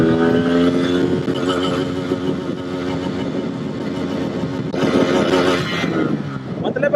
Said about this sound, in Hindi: सेकंड गियर के अंदर मैं बाइक को डाल लेता हूँ।